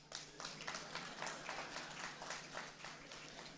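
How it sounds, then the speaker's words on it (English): Audience clapping at an energy awards ceremony in Ghana, a steady wash of applause from a crowd, moderately loud and continuous throughout with no talk over it. "Please, you can clap."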